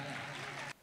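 Applause at a prize distribution ceremony: a dense, fairly loud burst of many hands clapping that lasts well under a second and then cuts off abruptly.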